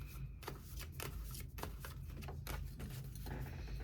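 Tarot cards are shuffled by hand in a continuous, fairly quiet riffling patter with rapid papery flicks and no speech.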